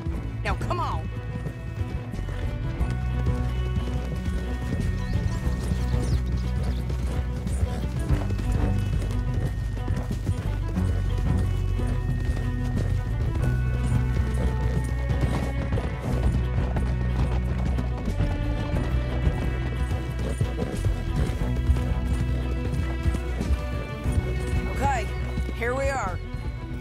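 Horses gallop and whinny in Red Dead Redemption 2, the hoofbeats and neighs mixed under a dense, loud music score and game sound effects, continuous for the whole stretch.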